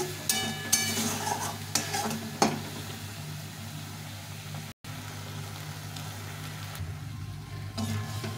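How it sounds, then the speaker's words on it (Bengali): Banana flower curry with rice and potatoes bubbles in a pan, a continuous close sizzle with several scraping stirs early on and a brief cut partway through. "ভালো করে ভেজে নিয়েছি, এখন একটু ফুটিয়ে নিয়ে"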